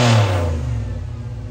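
A 600+ horsepower HEMI-powered Jeep on a dyno in a tuning shop, its engine roaring loudly at first, then winding down and fading across a short burst.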